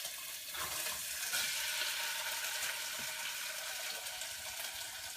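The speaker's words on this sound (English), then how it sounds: "I'm actually going to stir fry this in a way." Food stir-frying in a hot pan, a steady close hiss of sizzling that continues evenly for several seconds, with no one speaking.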